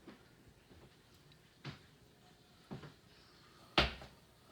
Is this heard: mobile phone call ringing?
no